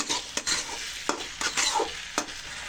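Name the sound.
stirring bean peels mixed with salt in a pan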